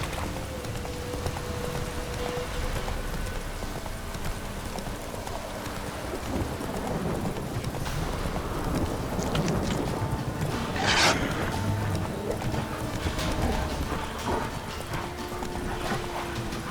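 Roach the horse galloping in The Witcher 3: Wild Hunt, with continuous rhythmic hoofbeats over a dense rain-like wash and a brief whinny-like cry partway through.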